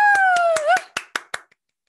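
Several hands clap in a short run of about eight sharp, close claps to open an online group meeting, with a voice briefly whooping over the first few before the clapping stops.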